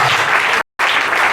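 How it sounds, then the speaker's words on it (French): A church congregation claps loudly for the glory of God in a brief burst of dense applause that is broken by a short gap. "Est-ce qu'on peut acclamer pour la gloire de Dieu?"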